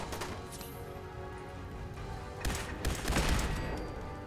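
A turret fires in Fallout 4 as a rapid volley of gunfire crackles and pops in clustered bursts. It is moderately loud and mixed into the game's background ambience.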